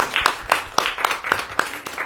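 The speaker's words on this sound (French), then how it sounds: "Eh bien, moi, je vais vous applaudir." Schoolchildren and adults applaud at a school event, clapping in a steady, evenly spaced beat with crisp, close hand claps about four per second.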